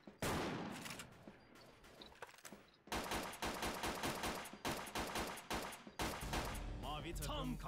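Pistol fire in the online shooter Wolfteam: rapid, loud cracking shots in quick bursts with short pauses, interspersed with game sounds and some talk.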